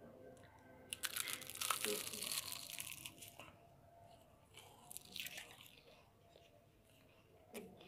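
Crunchy Egyptian-style galash pastry with cinnamon and honey being bitten, giving sharp crackling, flaky crunches in close bursts followed by quieter chewing, with a voice speaking during pauses.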